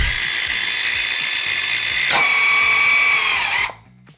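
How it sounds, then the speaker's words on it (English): A cordless mini circular saw whines at high speed as it cuts, then the blade jams with a sharp catch and the motor winds down and stops, close and loud, with no voices. "The material's coming at the saw blade so quickly that it jammed up."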